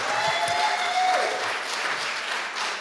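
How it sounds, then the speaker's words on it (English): A studio audience claps for a pair of musical guests, a dense, even round of applause held steady for a few seconds. "Give them a nice round of applause"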